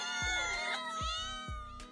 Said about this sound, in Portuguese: todos aqueles miados todos os dias